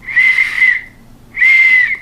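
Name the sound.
softly blowing a small black whistle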